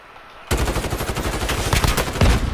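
Rapid automatic gunfire from Call of Duty: Modern Warfare Warzone, Season 4, bursts out after a quiet moment and rattles on as a loud, dense volley of close shots.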